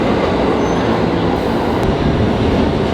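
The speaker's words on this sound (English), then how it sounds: "We gotta catch a train." A train rumbles steadily and loudly close by, a dense continuous roar of rail transport with faint squeals, heard alone with no voices.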